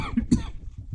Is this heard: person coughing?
yes